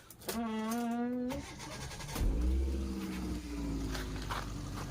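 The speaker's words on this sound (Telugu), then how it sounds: "ఇంజన్ కూడా మీకు ఒకసారి స్టార్ట్ చేసి చూపిస్తా" A 2008 Hyundai Santro's engine cranks with a whirring starter, catches and settles into a steady idle, close by and fairly quiet throughout.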